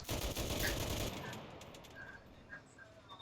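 Gunfire in the video game Enlisted: a dense burst of rapid automatic shots up front, then it thins to quieter scattered reports and faint game tones, no speech.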